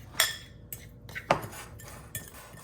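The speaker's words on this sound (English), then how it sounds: "Then I'm just gonna give this a good stir here." A spoon stirring paprika into a Mexican street corn dip mixture in a bowl gives a few light, scattered clinks and scrapes, soft and close with quiet gaps between them.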